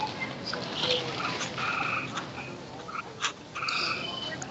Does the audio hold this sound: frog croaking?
yes